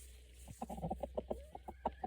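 A rooster named Nimrod, preparing a nest for his hen, gives a run of soft, low clucks in a quick, uneven rhythm, fairly close but quiet against a steady background rumble.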